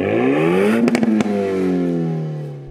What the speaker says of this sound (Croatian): zvuk je nešto malo glasniji u odnosu na serijski RS, ljepše grglja i malo češće pukne